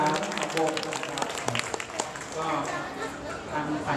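An audience at a school prom applauds the bands, a steady wash of clapping that continues for several seconds beneath a voice speaking over a microphone.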